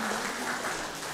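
Applause fills a church during a Christmas Sunday service as a child receives a gift, a steady wash of many hands clapping at moderate volume throughout, with no break.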